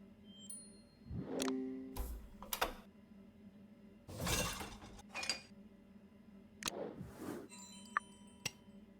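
Glasses clink and rattle as they are taken from a dishwasher in the video game Murder by Choice, several sharp glassy knocks and chinks scattered over a few seconds, fairly close and alone.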